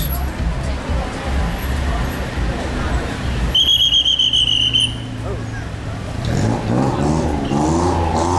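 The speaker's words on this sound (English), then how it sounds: "He likes his whistle." A shrill whistle sounds for about a second amid street traffic on Khaosan Road, Bangkok, with passing engines and nearby chatter, then traffic noise swells again.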